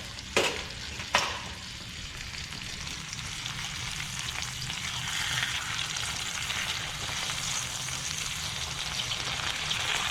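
A whole tortilla sizzles steadily in a hot pan, a dense continuous fry with two sharp clicks near the start, close and moderately loud with no talk.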